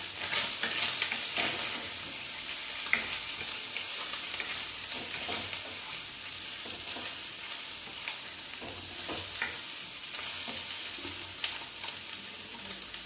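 Spices with turmeric sizzle in a pan, a continuous bright frying hiss with occasional stirring scrapes and small pops, steady and close.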